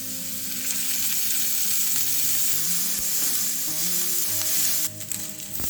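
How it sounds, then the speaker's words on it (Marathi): Onions roast in a little oil on a griddle, giving a steady, close sizzle that continues throughout with no talking and soft background music underneath. "आता हे आपल्याला छानपैकी भाजून घ्यायचे आहेत तव्यावरती आणि भाजताना आपल्याला थोडंसं यावर तेल टाकायचं आहे"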